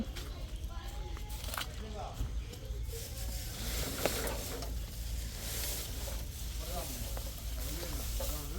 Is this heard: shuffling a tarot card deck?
no